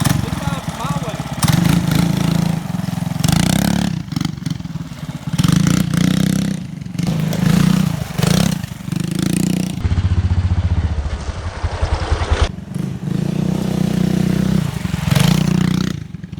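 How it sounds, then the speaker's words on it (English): A mini bike engine revs hard as it is ridden on a trail, its loud buzzing drone rising and falling in repeated bursts of throttle, with brief dips between pulls and talk mixed in over it. "That is definitely a ripper of a mini bike."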